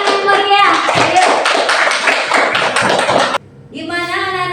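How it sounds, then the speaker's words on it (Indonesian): A classroom group loudly claps for group 2 in a brisk, close, uneven burst, with children's voices calling out over and after the clapping. "Tepuk tangan yang meriah"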